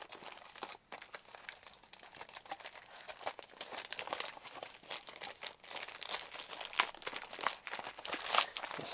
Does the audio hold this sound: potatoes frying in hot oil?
no